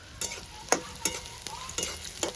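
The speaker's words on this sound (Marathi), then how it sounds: "हो, कांदा परतून घ्यायचा, लाल होऊन द्यायचं थोडं" Chopped onions sautéing on a wood-fired chulha stove, several short scraping stirs in steady rhythm over a soft, continuous sizzle, close and moderately loud with no talking.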